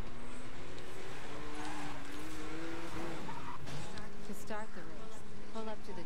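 A race car in the Need for Speed Most Wanted video game revs and drones continuously with rising and falling engine pitch and some tire squeal, loud and steady throughout, under a voice talking.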